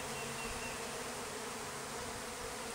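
A dense swarm of honeybees drones steadily while a package of bees is installed into a hive, making a continuous close buzzing hum with no pauses.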